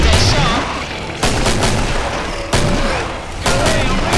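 Gunfire in the Killing Floor video game, sharp loud shots at roughly one-second intervals, each with a booming tail, under occasional excited voices.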